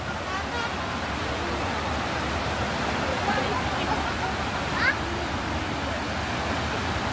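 Loud, constant rush of fast-flowing river water, close and unbroken, with a brief splash near the end.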